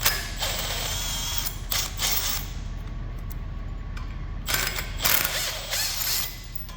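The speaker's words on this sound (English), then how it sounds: "we're going to remove those 4 retainer bolts" Ratcheting tool clicking as four retainer bolts are undone from the axle end of a ShoulderMaster bucket broom brush cartridge, in bursts of rapid mechanical ticking with short pauses, close and moderately loud, no talk.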